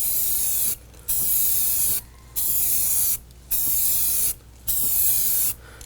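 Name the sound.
spray paint can spraying coats on arcade cabinet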